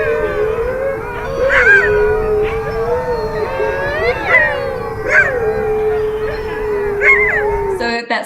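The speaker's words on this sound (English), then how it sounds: "the sound of the sled dogs is the soundtrack of the entire town" Greenland sled dogs in a hunting community howl in a layered chorus of long, wavering cries, several voices overlapping and rising and falling steadily for the whole stretch before cutting off at the end.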